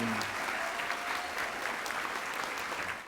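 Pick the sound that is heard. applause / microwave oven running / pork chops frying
applause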